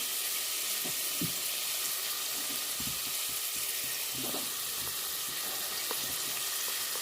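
Egg biryani ingredients frying in a pan, a steady soft sizzle with occasional stirring clinks and scrapes throughout, fairly faint and without talk.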